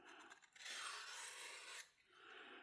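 A knife blade is drawn firmly across the 600-grit stage of a Work Sharp field sharpener to remove a burr, giving two or three quiet, close, rasping strokes, the loudest lasting about a second.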